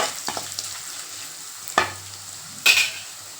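Soft sizzling of garlic frying in a pan, with a few sharp scraping clinks of a spoon stirring, close and fairly quiet.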